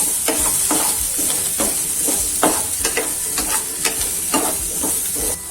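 Ginger and whole pepper fry in hot oil for sabudana khichdi with a loud, continuous hiss, while a spoon scrapes and taps the pan in irregular strokes close by.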